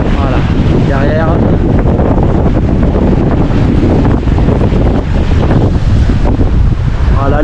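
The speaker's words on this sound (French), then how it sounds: "Vous allez entendre un petit peu le vent." Strong wind buffeting the microphone aboard a sailboat crossing from Corsica to the mainland, a constant loud roar mixed with sea noise.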